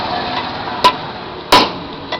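Hammering, with three sharp separate metallic strikes, two loud and one fainter, heard up close against a steady background hum.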